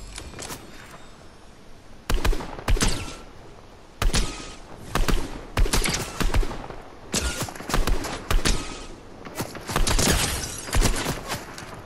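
Video game gunfire comes in repeated sharp, loud cracks and short bursts after a quieter opening. The shots are spaced irregularly over several seconds.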